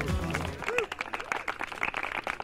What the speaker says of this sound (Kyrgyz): Барс команда кол чаап коюңуздар